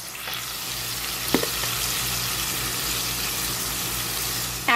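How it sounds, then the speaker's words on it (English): A shallot and dry white wine sauce with tarragon leaves simmers in a pan with a steady, even sizzle and bubbling. There are a couple of brief knocks, one near the start and one at the end. "And allow it to simmer."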